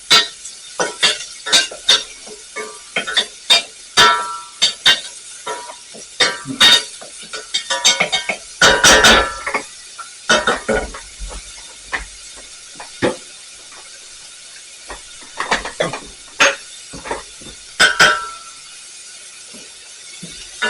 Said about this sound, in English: we're going to saute this now until the onion's translucent or slightly caramelized